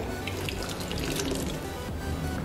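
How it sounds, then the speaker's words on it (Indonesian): About 100 ml of water poured into a pan while cooking rendang jengkol, a steady close splashing pour that runs the whole short stretch at low volume. "Ini saya tambahin dengan air sedikit."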